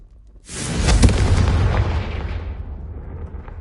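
Confringo spell explosion in Hogwarts Legacy: one sudden loud fiery boom with a deep rumbling body that slowly fades over a few seconds, alone without talk.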